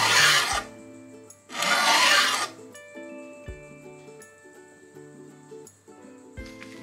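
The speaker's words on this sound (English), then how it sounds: "get yourself a nice file, nice flat one, and just cruise along the edges, scrape it sort of back until it's nice and smooth" A flat file scrapes along the edges of a chainsaw bar to smooth off the burr, giving two loud, close rasping strokes followed by quieter scraping and light metallic clinks, with no talking.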